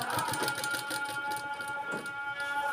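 Sewing machine stitching along a folded fabric edge, a steady fast mechanical whir with rhythmic needle ticking, close and continuous, with no voice over it.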